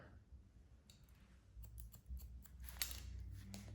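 Scissors snip close by through thick hair during a short pixie cut, a handful of crisp cuts clustering toward the end over quiet room tone.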